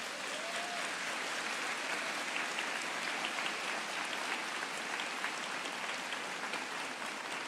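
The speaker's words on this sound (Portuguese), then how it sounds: "As palmas eram merecidas." Sustained applause from an audience at a church event celebrating the launch of a child protection policy, steady dense clapping filling the whole stretch without a break.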